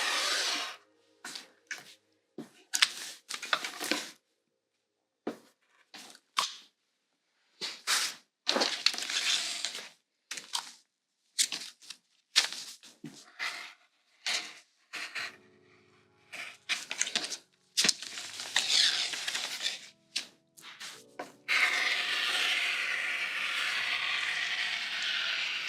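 Fabric is rough-cut around a sewing pattern with scissors, bursts of crisp close snipping and paper crinkling separated by short pauses, ending in a longer continuous rustle.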